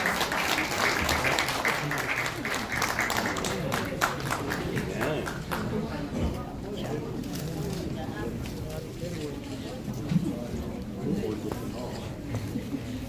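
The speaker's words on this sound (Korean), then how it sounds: "여러분 큰 박수로 축하해주시면 감사하겠습니다." A formal awards ceremony for National Assembly members, where the audience claps briefly and loudly at the start before the applause fades into room noise and a speaker's voice.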